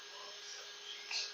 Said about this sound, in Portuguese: Agora é só bater no liquidificador.